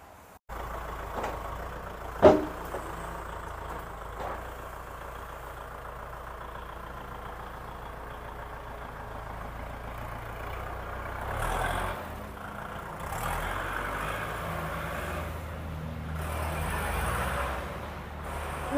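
A Kubota L5018SP tractor from 2021 runs at a low, steady idle nearby, its engine hum continuous under a sharp knock early on and some louder rattling bursts later, with no one speaking.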